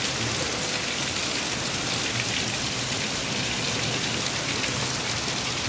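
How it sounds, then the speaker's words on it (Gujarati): Dense, continuous patter of hailstones pounding a surface, loud and unbroken, with no voices. "કરા પડે કરા"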